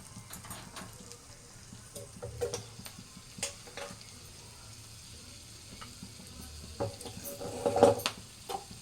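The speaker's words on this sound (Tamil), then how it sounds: "எண்ணெயில் போட்டோம்னா சுட சுட பொரிச்சிடும்" Cauliflower 65 pakoda pieces frying in hot oil, a quiet steady sizzle with scattered ticks and light clinks of stirring, a few louder bursts near the end, nearby, with no one talking.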